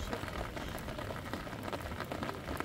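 Steady rain falls and patters on surfaces outdoors at a nomadic camp by a river, a dense, even hiss with scattered louder drops throughout.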